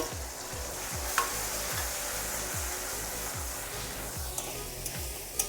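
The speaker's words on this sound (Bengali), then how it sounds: "নাড়াচাড়া করে দিচ্ছি, মিশিয়ে নিচ্ছি।" Spices being stirred into deep-fried, well-browned onions in a pan for a village-style chicken curry: a steady, close sizzle with regular scraping strokes of the spoon roughly every half second.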